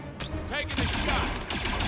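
Gunfire in the strategy video game XCOM on max difficulty, a dense burst of loud shots and mechanical clatter filling the moment, with a voice talking over it.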